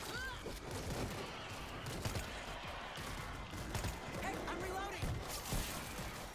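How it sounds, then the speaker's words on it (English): Shotgun blasts in the zombie shooter World War Z crack out amid dense, chaotic horde combat noise, with several sharp bursts scattered through a constant wash of game sound and players talking over it. "That's his shotgun."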